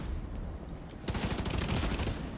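Rapid weapon fire in The Division 2 video game, a dense burst of sharp repeated shots for over a second after a quieter lead-in, loud and close, with no talking.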